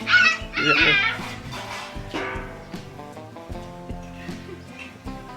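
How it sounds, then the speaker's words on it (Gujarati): A pet dog gives a few short, excited yips and whimpers near the start, mixed with voices and louder background music that carries on throughout. "આ એક કુતરો અમે પાડેલો છે આવી ગયો"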